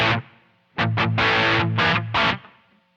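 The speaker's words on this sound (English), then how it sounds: "it's like a heavy distortion." Electric guitar through a heavy fuzz pedal set around noon, several loud saturated chord stabs and sustained distorted notes, each ending abruptly, with no talking.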